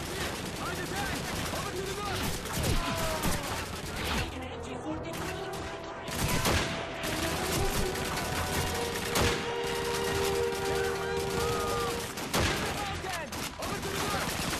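Rapid gunfire from the player's weapon in the World War II shooter Call of Duty 2, loud and close, with bursts and single shots in quick succession over battle noise and distant shooting, with voices talking in between.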